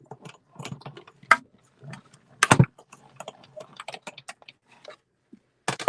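Paper shapes die-cut with a die-cut machine at a stamping craft class: scattered clicks, taps and rustles of handling, with a few louder cranking, crunching bursts.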